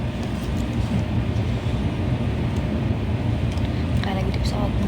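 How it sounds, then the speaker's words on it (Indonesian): Steady low rumble and roar of a moving train heard from inside a carriage, continuous and fairly loud throughout. "Kayak lagi di pesawat, enggak, ini di kereta."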